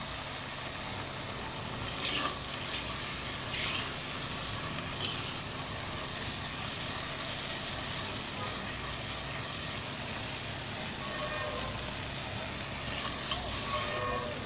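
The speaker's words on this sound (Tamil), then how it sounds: "இந்த அளவுக்கு நல்லா கிண்டிக்கிட்டே இருக்கணும்" Indian mallow (thuthi) greens stirred in a pan as they cook down, giving a steady soft sizzle with faint scraping strokes that runs unbroken and fairly quiet the whole time, with no voices.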